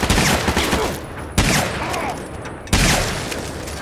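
Assault rifle fire in the video game Fallout 3 comes as dense rapid bursts of loud shots, with three sharp onsets in a few seconds amid continuous crackling gunfire.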